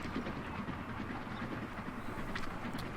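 A UK Atlantic steam locomotive in Transport Fever 2 runs along the line with a continuous broadband rumble and rail clatter, steady in level throughout.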